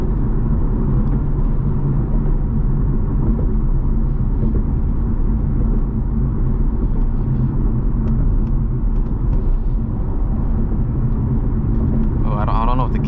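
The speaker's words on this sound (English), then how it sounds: "maybe that's just what a V8's supposed to sound like" A Chevrolet Corvette C7 V8 engine rumbles steadily from inside the car while driving, a loud continuous low drone that holds throughout with little change in pitch.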